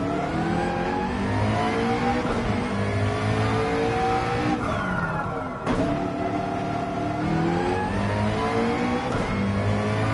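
McLaren race car in Gran Turismo 7 at the Spa circuit, its brutish English engine revving hard through rising and falling gear sweeps, loud and continuous with a brief cut near the middle.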